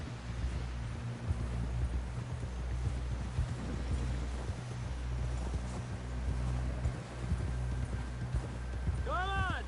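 A horse gallops in Red Dead Redemption 2 with a steady, close clip-clop of hooves over a low rumbling background, and a short tonal whinny-like call at the very end.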